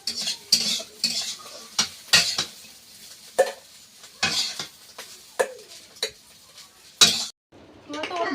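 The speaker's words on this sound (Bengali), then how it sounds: "কাঁকড়া আর আলু ভাজাটা কিন্তু হয়ে গিয়েছে এবার নামিয়ে নিচ্ছি" Fried crab and potato are scooped out of a pan, heard as a series of sharp metal spatula scrapes and clinks against the cookware in an irregular rhythm over a faint sizzle.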